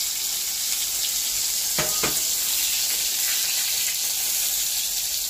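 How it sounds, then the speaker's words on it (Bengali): Potatoes and radhuni seeds fry in hot oil, making a steady, even hiss that runs the whole time, with a couple of brief scraping clicks partway through. "এখানে আছে আলু, তেলটা গরম হচ্ছে, এখানে আছে রাঁধুনি, তেলে নিয়ে ভেজে নিতে হবে।"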